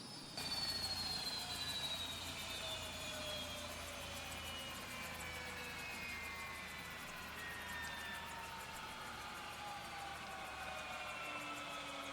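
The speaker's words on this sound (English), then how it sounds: "so kill the engine" A Bell 407 helicopter engine winds down during shutdown in X-Plane 12, its whining tones sliding steadily lower in pitch over a quiet, fading turbine hum.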